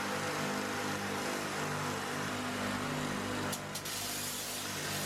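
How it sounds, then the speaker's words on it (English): A belt sander with a coarse 40-grit belt grinds across a 74-year-old chrome bumper, making a steady, loud abrasive whir that is briefly interrupted near the end. No one speaks. "Now we're actually going to start polishing this bumper properly."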